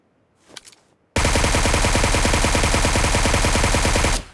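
A QBZ assault rifle firing on full auto in PUBG Mobile after a brief soft rustle: a loud, close, rapid unbroken stream of shots lasting about three seconds, then stopping abruptly.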